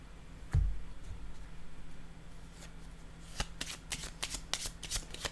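Tarot cards are shuffled and set down, a thud followed by a quick run of crisp riffling snaps near the end, close and fairly quiet with no speech.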